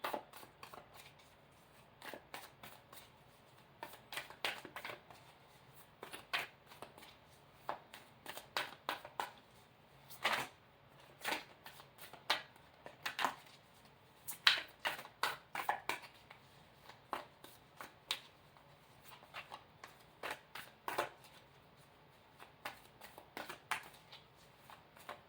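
Light Seers Tarot cards being shuffled by hand, a steady run of crisp riffling flicks and soft slaps spread over a long stretch at close range, with no talking.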